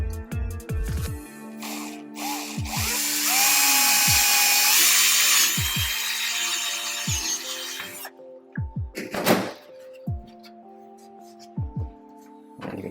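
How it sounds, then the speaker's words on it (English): A power drill bores a hole for a brass insert in an accessory mount on a third-generation Toyota Tacoma, whining up and running steadily for several seconds, then stopping and starting in short bursts amid clicks and handling noises, close by. "we're going to go ahead and drill this spot for a brass insert"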